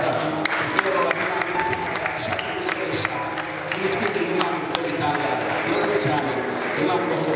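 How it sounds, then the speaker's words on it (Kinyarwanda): A church congregation applauds in a dense run of sharp claps under a steady crowd murmur. A voice talks over the clapping throughout. "Dukomere Imana amashyi bene data."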